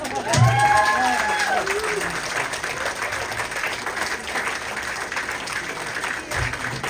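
Audience applause for a stand-up comedian at a comedy show, a steady wash of clapping that swells at the start and holds loudly throughout, with a brief voice and crowd noise mixed in near the beginning.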